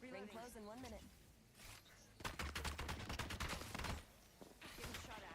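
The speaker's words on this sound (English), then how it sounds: "Getting shot at" Rapid automatic gunfire in the battle royale shooter Apex Legends, a burst of clustered shots in the middle, with someone talking before and after.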